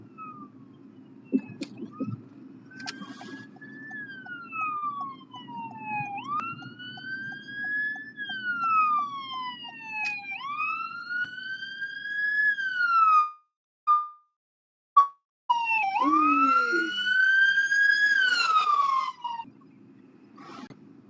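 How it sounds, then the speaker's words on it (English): An emergency vehicle siren wails in repeated rising and falling sweeps, heard from inside a moving vehicle over a low road rumble, growing more insistent toward the end. "I hear a siren, but I don't know which direction it's coming. I hear it's getting loud."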